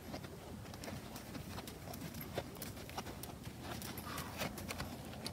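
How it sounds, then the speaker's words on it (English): A ridden horse does a slow schooling walk in an arena, hooves clip-clopping in a steady, faint rhythm against a soft background hiss. "That's called a schooling walk, when a horse walks slow enough where you keep their brain when they're walking forward."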